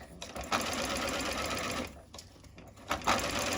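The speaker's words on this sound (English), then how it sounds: "I'm just sewing down the middle of the overlock." A sewing machine stitches down the middle of an overlocked edge to form a hem, running in a steady close whir with two brief pauses.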